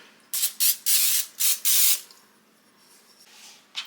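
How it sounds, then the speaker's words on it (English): Five short bursts of nonstick cooking spray hissing onto a ramekin, close and loud, in quick succession, followed by quiet room tone with a faint rustle at the end. "I'm going to spray mine with a little nonstick cooking spray."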